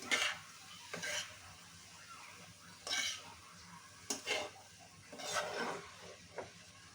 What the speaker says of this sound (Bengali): সবগুলো উপকরণ একসাথে ভালো করে মিশিয়ে নেব বন্ধুরা।